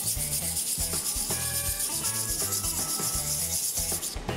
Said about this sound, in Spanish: Y vamos lijando.